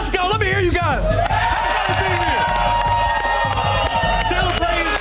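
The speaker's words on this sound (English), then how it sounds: "we've got a live crowd here that's turned up to the max" A live crowd at an EA Sports College Football 26 Army vs Navy tournament event, cheering and shouting in a loud, continuous roar, with voices calling out over it and music playing underneath.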